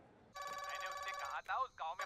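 Telephone ring tone plays loudly in a Hindi film scene, a sustained electronic ringing pattern with warbling bursts lasting about two seconds, no talk over it.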